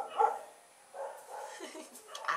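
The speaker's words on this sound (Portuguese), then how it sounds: "os cachorros começaram a latir" Dogs bark in short separate bursts, a few sharp yaps spread across a couple of seconds, somewhat distant and not loud, with a quiet room background between them.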